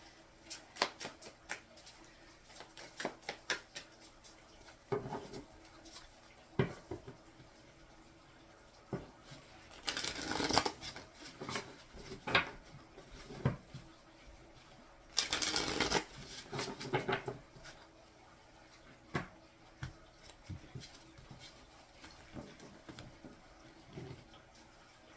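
Tarot cards are shuffled by hand in repeated soft riffling bursts, close and fairly quiet, with two louder flurries in the middle and no talking.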